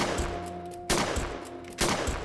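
Two loud, sharp shotgun blasts in the horror RPG Fear and Hunger: Termina, each a sudden booming crack with a decaying tail, spaced about a second apart over a tonal game hum.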